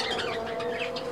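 Budgerigars chattering and warbling together in a breeding cage, a busy continuous twitter from several birds nearby, brief and without talk.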